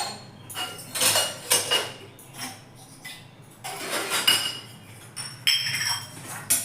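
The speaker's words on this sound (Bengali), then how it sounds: "বাসনগুলো এখনও গুছিয়ে দিয়েছি" Metal and steel dishes, pots and cutlery clatter and clink in repeated bursts as they are stacked and put away in a kitchen, close and fairly loud, with short pauses between handfuls.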